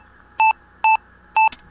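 Three short, identical electronic alarm tones sound at an even pace inside a simulated Mercury spacecraft cockpit during re-entry, loud and clean, followed by a brief click.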